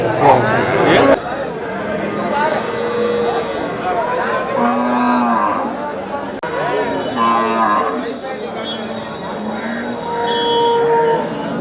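Cattle at the Melapalayam cattle market moo repeatedly, with several drawn-out, close lows rising over a busy background where people talk throughout.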